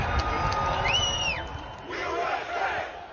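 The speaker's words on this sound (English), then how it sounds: "There's a crowd surge heading east." A large rally crowd surges forward with massed shouting and a rising collective roar, loud and continuous, with individual yells and whoops cutting through the din.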